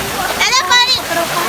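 Splashing water as a father and son bathe in a stream at Shahdara Valley near Islamabad, a few brief splashes over running water, with a voice and talk close by.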